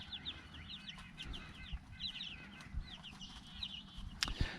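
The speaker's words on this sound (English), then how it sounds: "I'm gonna have 9 chicks that are terrified and don't really want to be outside." A group of nine young chicks peeping and clucking outdoors on their first day outside, a steady scatter of high chirps over faint background noise, ending with a brief louder knock.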